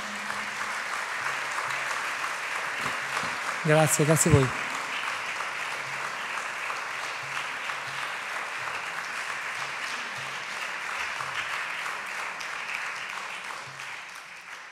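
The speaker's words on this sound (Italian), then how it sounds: "io farei un applauso a Davide per averci raccontato" Applause from an audience at a design talk, a sustained even patter of many hands throughout, with a speaker briefly giving thanks over it partway through.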